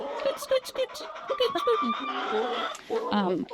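Hens cluck and chatter inside a backyard chicken coop, with a busy overlapping flurry of close calls, squawks and a brief crow-like note, while someone talks over them.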